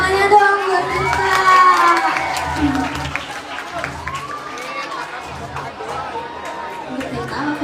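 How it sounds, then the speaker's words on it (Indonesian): A school audience at a junior high book week storytelling competition in Jakarta cheers and claps, with children shouting and excited crowd chatter, loud at first and gradually settling, voices mixed throughout. "Tepuk tangannya dong buat kita."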